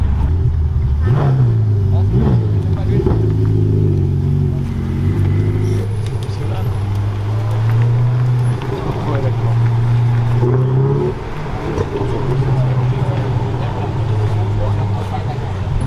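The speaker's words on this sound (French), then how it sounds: "Là il y a un joli convoi qui arrive." A convoy of sports cars arriving at the Rallye du Coeur in Lyon rumbles past with loud, steady engine drones and rising revs, while someone talks over the noise throughout.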